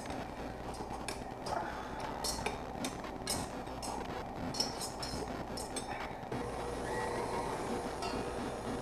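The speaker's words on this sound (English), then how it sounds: "I'm going to get a knife out and scrape down the sides." Knife scraping down the sides of a mixing bowl holding pasta dough in a kitchen, a run of close, clinking metal-on-bowl scrapes and knocks over a steady background hum.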